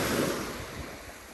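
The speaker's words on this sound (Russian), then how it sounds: "вот такое Эгейское море" Waves of the Aegean Sea on the Turkish coast wash in as a steady, broad surf hiss with some wind noise, fairly close and even throughout, with no voices.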